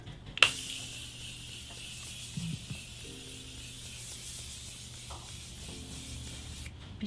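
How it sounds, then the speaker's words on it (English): A Morphe setting spray mists onto a face in one sustained, close hiss lasting several seconds, with a few faint clicks of the pump and no talking. "I'm gonna go in with my Morphe setting spray"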